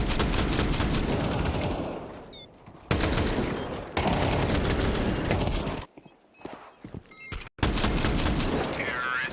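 Rapid gunfire from a Counter-Strike 2 match at a major esports tournament, dense bursts of shots and booms filling most of the stretch, with short gaps and crowd noise between.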